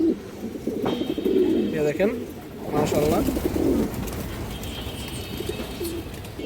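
Pigeons of fancy breeds such as kaldom, silver bezi and green-necked, kept as a breeding pair, coo in soft low repeated phrases close by, interleaved with someone talking.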